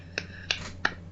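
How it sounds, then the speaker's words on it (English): A single person claps slowly, three sharp isolated claps spaced apart over a quiet low hum. "One person clapping, slightly worse than no one."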